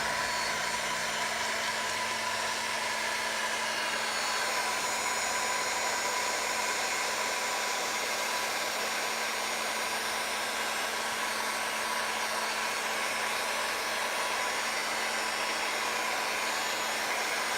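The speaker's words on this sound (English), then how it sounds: "Do not use your heat gun." A heat gun blows steadily on a thin coat of Dixie Belle paint, giving a loud, unbroken whooshing roar with a faint tonal hum throughout and no voices.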